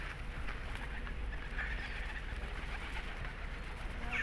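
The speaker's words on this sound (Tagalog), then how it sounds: "Ang daming kalapati." A flock of pigeons coos continuously outdoors in Zelenograd, Russia, a low, soft murmur of overlapping calls against steady background noise.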